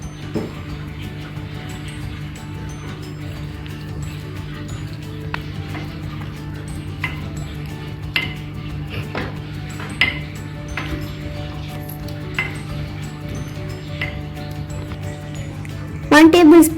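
Lemon and mint being smashed with a muddler in a glass for a mojito, giving repeated irregular knocks and clinks over a steady low hum, ending in a louder burst of clatter.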